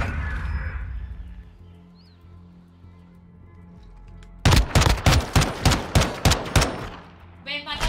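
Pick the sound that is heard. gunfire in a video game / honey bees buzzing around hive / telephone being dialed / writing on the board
gunfire in a video game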